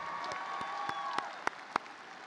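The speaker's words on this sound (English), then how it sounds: "Let's give them a loud round of applause for studying so hard" Applause from a high school graduation ceremony crowd, a soft steady wash of clapping at moderate distance with a few sharper individual claps standing out near the end.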